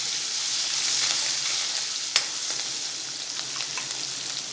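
Green chillies frying in hot oil in a pan, a steady soft sizzle throughout with one brief sharp crackle partway, no talking.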